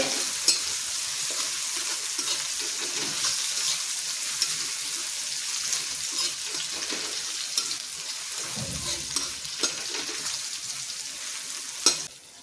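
Masala idli pan-roasting with spices, a steady close sizzle running throughout with occasional stirring scrapes and a sharp clink near the end.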